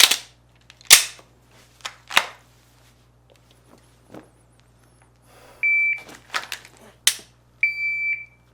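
Pistol shots at a firearm range with a par shot timer set to 1.5 seconds, sharp close cracks spaced over several seconds, with two steady electronic timer beeps between and after the shots.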